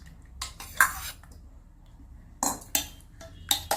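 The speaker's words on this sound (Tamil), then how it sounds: "அதை இதுல போட்டு நல்லா இதுல கிளறிடலாம்" Spoon clinking and scraping against a bowl while chopped shallots are stirred in, a few sharp close taps in short bursts separated by quiet pauses.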